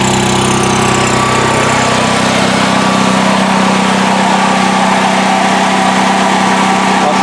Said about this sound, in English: here's the generator running. It's a lot louder with the enclosure opened up